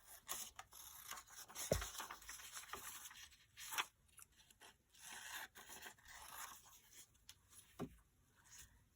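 Scissors snip and scrape through paper for a folio cover flap, with irregular crisp cuts and rustling close by at low volume, a few sharper clips standing out.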